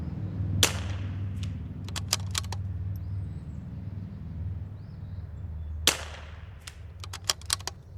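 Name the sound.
22LR precision rimfire rifle shot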